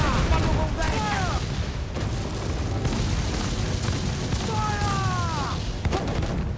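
In the game Assassin's Creed Black Flag, ship cannons fire a broadside, dull booms landing at irregular intervals over a constant roar of sea and battle, with shouted voices mixed in.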